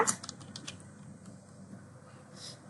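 A few quick, faint keyboard taps while text is typed into Google Slides, clustered at the start and then fading to quiet room tone.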